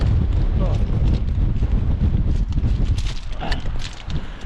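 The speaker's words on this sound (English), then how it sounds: "It is windy." Strong wind gusts buffet the microphone on a bank of the River Humber, a dense, continuous low roar with rushing noise and no break throughout.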